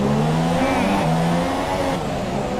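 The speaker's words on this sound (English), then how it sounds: "You can hear the engine roaring in this Red Bull." A Red Bull Formula 1 car engine roars continuously in a racing video game, a loud sustained whine with shifting pitch and no voices.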